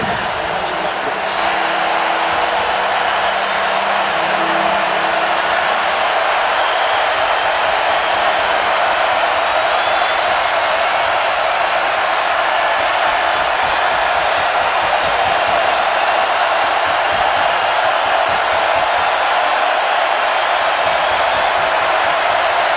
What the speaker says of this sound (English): Now the crowd's getting cranked up.